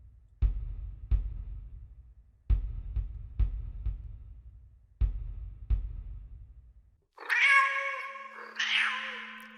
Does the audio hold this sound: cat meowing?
yes